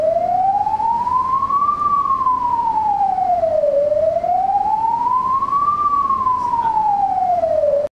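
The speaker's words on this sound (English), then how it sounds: "The fire alarm sounds like this." A rig's fire alarm: a loud, continuous tone slowly sweeps up and down in pitch, rising and falling twice in a steady wailing cycle.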